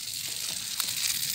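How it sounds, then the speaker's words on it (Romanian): A campfire sizzles and crackles like frying bacon, a steady close hiss with a few small pops, heard at night outdoors near a cemetery. "Ui, dar ce ard e, sfârâie ca slănină aia!"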